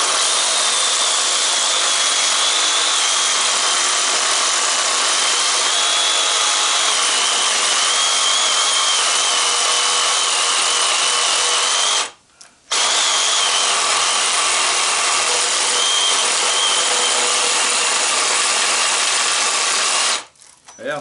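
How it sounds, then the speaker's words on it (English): Sawzall reciprocating saw cutting copper windings off an electric motor stator, a loud, harsh, continuous buzzing rasp that runs alone with two brief pauses. "as you can see, the Sawzall is doing the greatest job"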